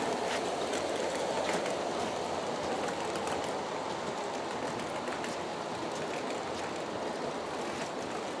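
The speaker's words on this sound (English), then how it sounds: "So I'm going to slow the train down now" A G scale model Santa Fe train rolls along its track, giving a steady, close mechanical rumble with light rhythmic clicking from the wheels passing over rail joints.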